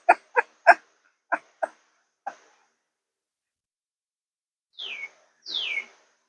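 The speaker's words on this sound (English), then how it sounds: "Little night birds are calling." Small night birds call from bushes and trees: six short chirps in an uneven series, then two louder downward-sweeping whistles, close by and clear against a silent background.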